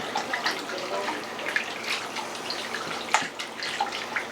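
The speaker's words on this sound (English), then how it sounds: "Give this a whisk." Marinade being whisked in a bowl with kosher salt, a steady wet swishing and light clinking close by, with no talking.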